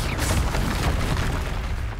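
Confringo fire spell bursting in Hogwarts Legacy, a loud booming blast with a rolling, crackling tail lasting about two seconds.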